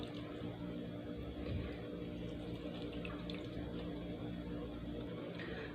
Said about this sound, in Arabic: كوبايتين السكر هضيف عليهم كوبايه واحده بس من الميه